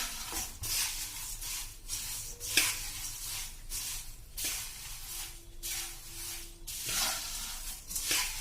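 Puffed rice (mamra) being mixed with sev by hand in a bowl: crisp, dry rustling strokes repeat about once a second in a steady rhythm, fairly quiet and alone.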